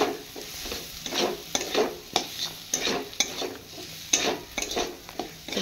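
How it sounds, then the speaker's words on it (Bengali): Boiled pasta being stirred into fried spices in a pan, with repeated scraping and clinking strokes of a utensil over a soft ongoing sizzle, close and fairly loud, no talking. "তো পাস্তাটা আমি এবার ভালো করে মশলার সঙ্গে মাখিয়ে নিচ্ছি।"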